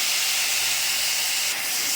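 Spices and tomato frying in hot oil in a Bengali vegetable dish, giving a steady, loud broadband hiss and sizzle that runs unbroken throughout, with no talking.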